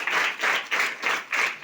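Audience applause welcoming a donor at a Gujarati community gathering, a steady wash of many hands clapping in rhythmic swells, fairly close and loud, with no talk over it.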